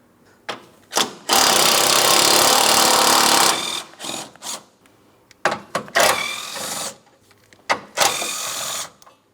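Two 13 mm bolts are being removed from the crossover bracket of a 2004-2008 Pontiac Grand Prix with a power tool, giving loud, close, buzzing bursts of a few seconds each, separated by short gaps and clunks.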